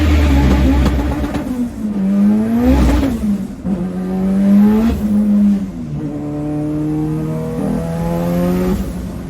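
A race car with failing rear brakes revs up and down repeatedly, its pitch climbing and falling as it shifts gears and drives hard around the track, loud and close.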